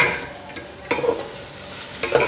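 Beef pieces with garlic fry and sizzle in a pot, with two clear scraping stirs of a spoon against the metal over a steady background hiss.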